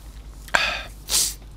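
One person sneezes, starting with a sharp intake of breath and ending in an explosive, hissy burst a moment later, close to the microphone in a quiet room.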